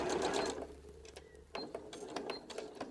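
A sewing machine stitches a fabric-scrap scrunchie in purple thread: one loud, fast burst of stitching at the start, followed by quieter mechanical clicks and handling noises close by.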